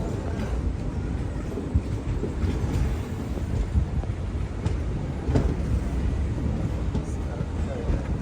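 A train stands at Kozhikode railway station on a curved platform, a steady low rumble with wind-like noise and faint background voices running throughout.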